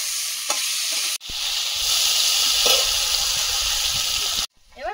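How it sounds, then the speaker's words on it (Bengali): Potatoes fry in hot oil in a pan for a Bengali home-cooked meal, a loud continuous sizzle with occasional stirring scrapes, briefly interrupted by a cut before the sizzle resumes and a quieter stretch closes it out. "আলুটা আগে আলাদা করে ভেজে নিচ্ছি"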